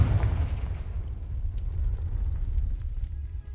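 Confringo fire spell cast in the Hogwarts Legacy video game: a deep, booming blast that starts loud and rumbles into a fading, crackling tail, with a faint chime near the end.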